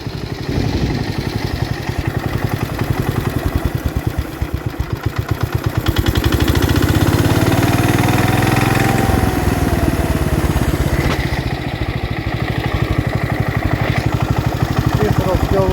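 A John Deere 112H lawn tractor engine runs loud and close with a rapid, even beat that shifts and rises midway before settling back as it drops its speed.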